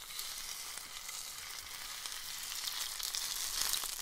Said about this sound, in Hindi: अब हम इसमें ऐड करेंगे एक अंडा, जिसको थोड़ी देर हम पकाएंगे।